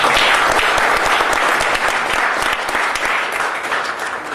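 Loud, dense applause from an audience at a Green Party event in a community center hall, steady and close for several seconds, tapering slightly at the end.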